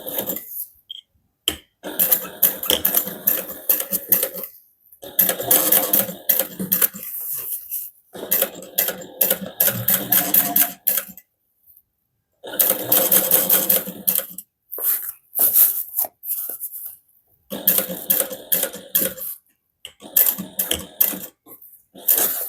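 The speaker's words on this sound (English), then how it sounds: "we're going to top stitch through the bottom panel and the seam allowance using a 1/8 inch seam allowance" Close, loud sewing machine bursts top-stitch a bag's bottom panel in short, rapid runs broken by frequent stops and longer pauses, with no voice.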